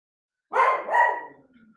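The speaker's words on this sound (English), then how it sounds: "dogs are barking tonight" One loud, close dog bark that breaks into a second rising yelp, then trails off into quiet.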